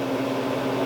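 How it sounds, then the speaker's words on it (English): A faulty magnetron in a Frigidaire microwave gives a steady, loud electrical buzz with a strong low hum, continuous and close throughout the brief moment. "the magnetron is buzzing, but it's not producing microwave energy"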